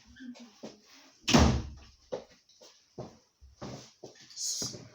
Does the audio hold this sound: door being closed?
yes